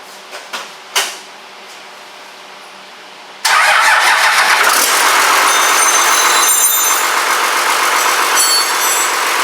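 A Cummins diesel engine cranks with a few short clicks and thumps, then fires abruptly and settles into a loud, steady, rattling idle that runs on without a break.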